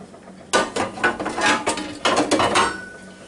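Metal grill plate slotted down into a Ninja Foodi Grill, with a run of close clattering metallic knocks and scrapes as its notch seats into place, loud and without talking.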